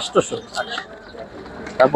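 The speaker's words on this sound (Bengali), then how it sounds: "এখানে ভাই অনেক কবুতর আছে" Pigeons at the Tongi pigeon market give short coos in a few quick bursts, close and moderately loud among brief vocal sounds.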